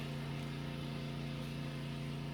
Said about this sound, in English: Believe it or not, that's a lawnmower, about 6 doors down.